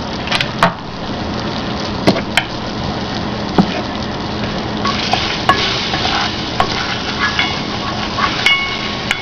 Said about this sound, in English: I think I'll put just a little bit more sliver of butter in there